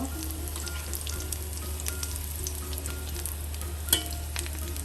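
Onion and flower pakoras frying in hot oil in a pan, giving a steady close sizzle under a low hum, with occasional small clinks and one sharp tap near the end.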